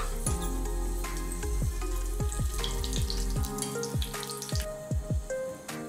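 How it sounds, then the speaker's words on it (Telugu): Dried red chillies sizzle and crackle in heated oil for an Andhra-style gongura pickle tempering, a steady close frying hiss with tonal sounds running underneath. "ఒక 2-3 ఎండుమిరపకాయలు తీసుకుందాం."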